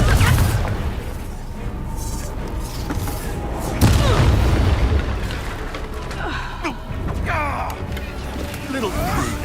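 Confringo blasting spells explode during a Hogwarts Legacy video game fight, with booming impacts and creaking, clattering debris over a continuous loud din, a sharp blast standing out midway.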